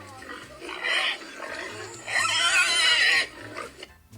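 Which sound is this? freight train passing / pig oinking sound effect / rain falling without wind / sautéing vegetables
pig oinking sound effect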